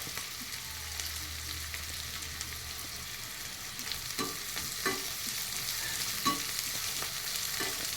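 Onions and chillies frying in a pan, a steady close sizzle with several soft clacks of stirring near the end, no talk.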